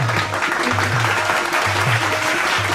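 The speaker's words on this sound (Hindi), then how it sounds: "ताली बजा लो।" Audience clapping at a Chhattisgarhi stage comedy and dance programme, a dense, steady patter that runs throughout over a low, humming musical drone.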